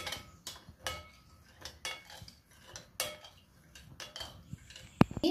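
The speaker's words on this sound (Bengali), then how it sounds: "ভালো করে নাড়িয়ে নেব।" A spoon scrapes and clinks against a metal pot or bowl as the cumin-seasoned filling for pani puri, also called fuchka, is stirred. The knocks come in irregular bursts, fairly close, with no talking.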